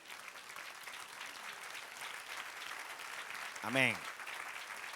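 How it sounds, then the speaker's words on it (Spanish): Congregation in a church claps in faint, dense applause under a pastor's preaching, with a short spoken word near the end. "Dale un aplauso al Señor."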